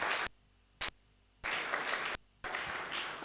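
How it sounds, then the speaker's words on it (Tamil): An audience at a church Christmas programme claps in bursts: short sharp claps, then two longer stretches of loud, dense hand-clapping with brief pauses between them. "கைத்தட்டி தேங்க்ஸ் சொல்லுவோம்."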